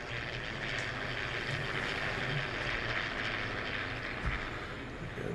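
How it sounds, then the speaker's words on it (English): In Farming Simulator 19, airplanes drone overhead as a steady, moderately faint engine hum with a low rumble underneath, continuous and without speech. "There go the planes again."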